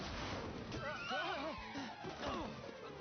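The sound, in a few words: horse neighing in Dragon Quest XI video game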